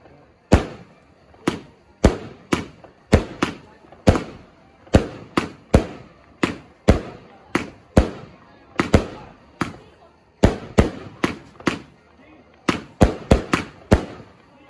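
Sharp firework reports from a 75-shot 25 mm compound Skat Box cake fire in rapid irregular bursts of two to four, each crack loud and close with brief decay, the volley continuing steadily throughout.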